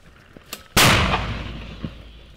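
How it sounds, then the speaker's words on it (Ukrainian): A single loud, sharp blast from a mortar firing old rounds in the Kherson war zone, followed by a long decaying rumble; faint voices and small knocks come before it. "Увага! Постріл!"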